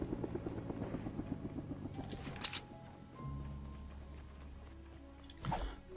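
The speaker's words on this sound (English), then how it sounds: "Oh man, I'm gonna get this helicopter and pull up on that." A helicopter in Fortnite whirs with a rhythmic rotor chop, steady at first, then shifting to a lower drone with a brief burst of game effects, with no voices.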